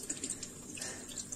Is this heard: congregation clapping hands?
no